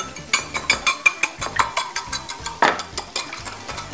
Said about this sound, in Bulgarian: И разбърквам.